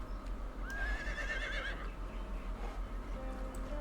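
A horse in the video game Conan Exiles whinnies loudly once, a rising then falling neigh, over a low steady hum with faint hoof movement.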